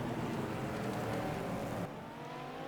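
GT3 race cars from the Automobilista racing game at Albert Park, including a down-on-power Renault RS01, drone steadily at close range with dense engine noise that drops slightly in level near the end.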